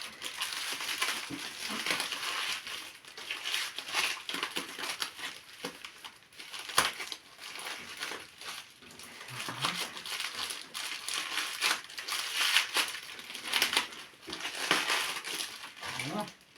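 Continuous crinkling and rustling of plastic packaging and tape being pulled and torn from a packed Alocasia plant, close up, with irregular crackles and occasional louder rips.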